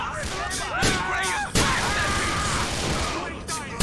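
Shotgun blasts ring out in GTA 4: The Lost and Damned, a few loud booming shots over chaotic gunfight noise, with voices shouting in the background.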